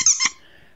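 A dog's squeaky plush fox toy gives one or two sharp, high squeaks squeezed in quick succession, loud and close, then fades into silence.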